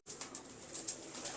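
Low, soft cooing of Heeralaal pigeons up close, a steady throaty murmur over faint background noise.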